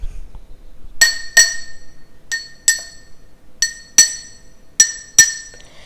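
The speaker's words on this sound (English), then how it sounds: "Let's grab our metal spoon and clink it to the glasses." A metal spoon taps a row of glass jars, giving about nine bright, ringing clinks in small pairs and singles, each tone decaying quickly against a quiet background.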